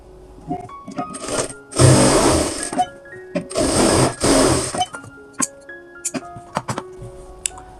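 A sewing machine stitches churidar pajama fabric in two sustained loud bursts of motor whir, surrounded by shorter clicks and taps of handling, with a voice talking between runs.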